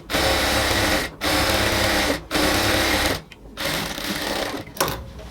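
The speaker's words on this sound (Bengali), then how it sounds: "এবার আমরা চাইলে একটা সেলাইয়ের উপর আরেক সেলাই দিয়ে আসতে পারি" A sewing machine stitches ladies' pant fabric in loud, close bursts of rapid mechanical whirring, four runs of roughly a second each separated by brief pauses, with no talk.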